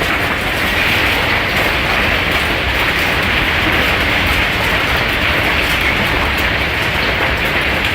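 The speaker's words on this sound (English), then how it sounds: "This hailstorm in Texas was so intense that the hail started coming inside the home." An intense hailstorm in Texas roars around and into a home, a loud, dense, unbroken clatter and hiss of hail hammering surfaces without a pause.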